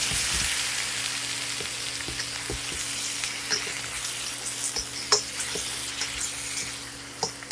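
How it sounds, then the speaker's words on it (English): Shrimp sizzling in hot oil in a wok, a steady bright frying hiss with small pops and occasional clinks, close and continuous. "get the oil all around my wok. Alright, first thing I want to do is I want to get my shrimp in there"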